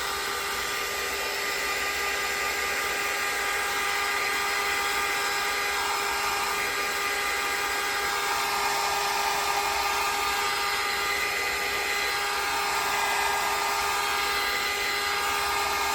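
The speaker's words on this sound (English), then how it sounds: "let me go ahead and hit this with the dryer" A hair dryer blows steadily to dry a Halloween pumpkin decoupage craft, a constant loud whooshing whine running unbroken throughout with no talk.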